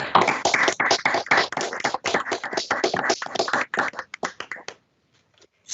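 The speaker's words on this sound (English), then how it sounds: "give a round of applause to our new attorneys" Dense applause with many hands clapping at once at an Appellate Division court session welcoming new attorneys, loud and sustained for several seconds, then thinning to a few scattered claps before stopping.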